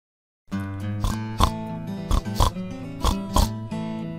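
Cartoonish pig oinks and snorts from a farm-themed educational video game, several short grunts in an uneven rhythm over a steady synthesized music bed.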